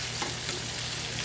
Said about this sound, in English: I'm sure you can hear the frying.